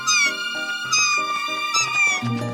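A kitten meows in a run of several high, tonal cries with short gaps, close and fairly loud, as an abandoned kitten found by a roadside calls out alone.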